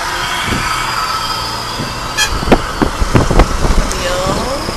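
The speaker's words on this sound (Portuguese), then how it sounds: "Caminhão." A truck passes on a coastal highway near Arraial do Cabo, heard as a loud steady road rumble from inside a moving car, with a few sharp knocks and a brief voice.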